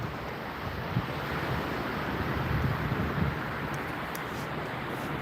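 Ocean surf washes continuously along a beach, a broad steady roar of waves with light wind buffeting the microphone and a few faint brief clicks near the end.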